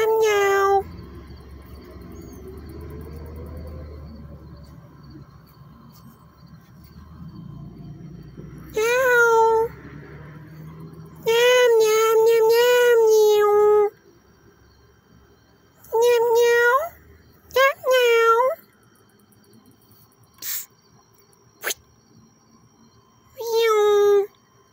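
A cat meows repeatedly in short, loud, close bursts separated by pauses, with a quieter voice murmuring early on.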